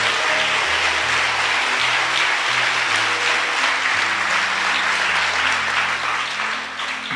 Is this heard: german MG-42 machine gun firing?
no